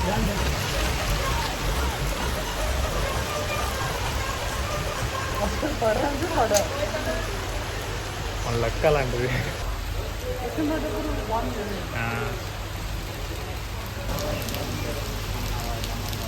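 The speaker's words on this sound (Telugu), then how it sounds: "సడన్ గా చూస్తే వర్షం స్టార్ట్ అయింది." Steady rain patters densely on a surface throughout, loud and continuous, with a person speaking briefly underneath.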